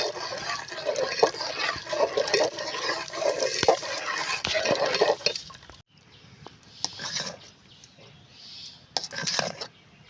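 Rice flour mixture bubbling and boiling in a pot while being stirred, with steady wet bubbling and scraping clatter, louder for the first half and then quieter with sporadic stirring knocks.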